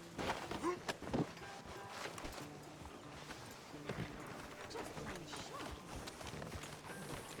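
A horse's hooves clip-clop in the Western video game Red Dead Redemption 2: a few crisp, quiet hoof strikes near the start, followed by a low murmur of ambient game sound.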